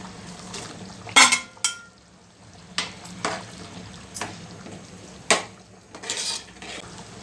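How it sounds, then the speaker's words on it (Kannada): Fried paneer being stirred into simmering masala in a kitchen pan, with a handful of sharp utensil scrapes and clinks against the pan at irregular intervals over a quiet bubbling background, close and moderately loud, no talking. "ಈಗ ಇದಕ್ಕೆ ನಾನು ಫ್ರೈ ಅಂಥ ಪನ್ನೀರ್ ಸೇರಿಸ್ತಾ ಇದ್ದೀನಿ"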